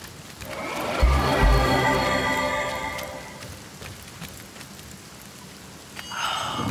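Steady rain patters in the video game Divinity: Original Sin, a broad hiss with a brief low thump near the start and the downpour easing toward the end.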